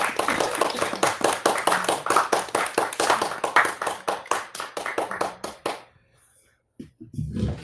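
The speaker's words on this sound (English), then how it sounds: "Somebody was clapping really hard for you." Someone in an open mic night audience claps hard in a steady, even rhythm for about six seconds. Other noise is quiet, and the clapping stops abruptly before a brief near-silence and a final soft rustle.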